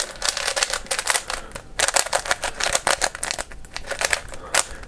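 A non-magnetic 3x3 speedcube is turned rapidly in close-up, giving a dense run of hollow, plasticky clicks and clacks in quick irregular bursts with brief pauses between.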